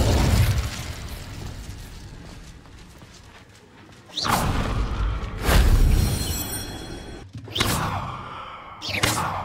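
Incendio fire spell cast in Hogwarts Legacy: several loud whooshing fiery bursts in sequence over a low ambient rumble, each flaring and fading within a second.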